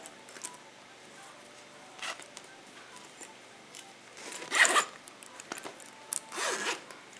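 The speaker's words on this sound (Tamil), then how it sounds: "அடுத்து சென்டர்ல வந்து ஒரு ஜிப் இருக்கு" The centre zip on a newly bought bag is pulled open in several short rasping strokes, close by, with quiet rustling and handling in between.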